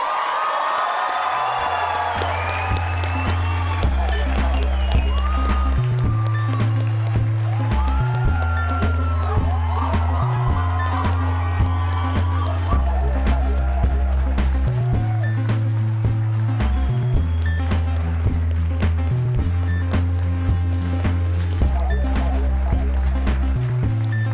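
Cheering and whoops from the audience at a PUC Campinas medical school graduation ceremony as the new doctors are presented, crowd noise over a loud rhythmic music track.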